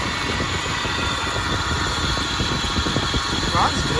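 A 1994 Chevy C1500 pickup with a 5.7-liter engine runs steadily at idle, its low, rumbling vibration continuous and fairly loud throughout, with a brief faint high squeak near the end.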